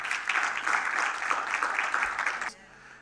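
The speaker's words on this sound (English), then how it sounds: "give the Lord a hand clap" A church congregation claps together for about two and a half seconds, a dense and fairly even burst of applause that cuts off abruptly into near silence.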